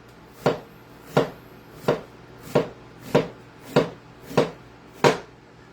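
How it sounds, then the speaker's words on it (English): A knife slicing an onion thinly on a cutting board, eight evenly spaced crisp chops in a steady rhythm, close and clear with no talk. "let's get our thinly sliced onion going here"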